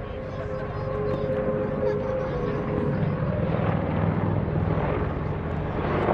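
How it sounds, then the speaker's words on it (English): An AH-64 Apache helicopter flies at an airshow's combined arms demonstration, producing a continuous, loud rotor and engine roar with steady broadband rumble throughout, no voices over it. "flying the AH-64 Apache."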